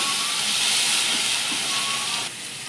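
Spice masala of onion paste, chilli powder, salt and turmeric sizzles in a pan with a loud, steady, close hiss that drops abruptly in level near the end.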